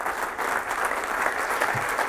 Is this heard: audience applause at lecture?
yes